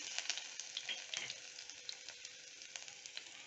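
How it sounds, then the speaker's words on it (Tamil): Curry leaves, dried chillies and crushed unpeeled garlic sautéing in a pan for rasam, a steady bright sizzle with small crackling pops throughout. "இப்போ இதெல்லாமே சேர்ந்து நல்லா கொஞ்சம் வதக்கிக்கோங்க."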